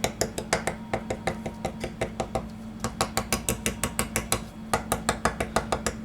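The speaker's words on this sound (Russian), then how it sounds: "Эти шапочки, крышечки мы протыкаем вилкой." A fork pricks puff-pastry caps for apple strudel in a steady, rapid series of sharp taps and clinks, over two dozen quick strikes against a surface beneath the dough, close and clear over a low kitchen hum.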